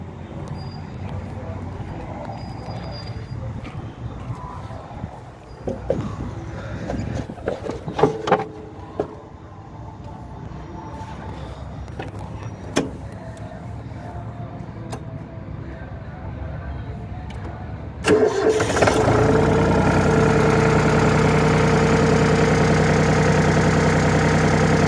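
A Hinomoto N189 Japanese four-wheel-drive tractor is cranked after a stretch of quiet handling noises and brief clunks, then its diesel engine catches and settles into a loud, steady idle close by.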